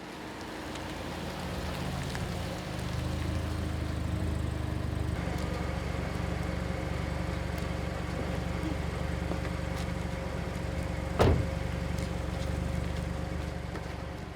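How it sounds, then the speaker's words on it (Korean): A car moving along a quiet, empty road at night, a steady low rumble of engine and tyre noise that swells slightly as it passes, with a brief sharp knock near the end. "적막한 도로에 다시 차 소리가 들린 건 그로부터 2시간이 더 지난 후다"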